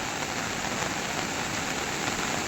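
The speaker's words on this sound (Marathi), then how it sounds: "खूप सारा असा पाऊस पडतो," Heavy monsoon downpour in the Sahyadri hills of Konkan, a dense, steady roar of rain hissing continuously with no let-up and no voices.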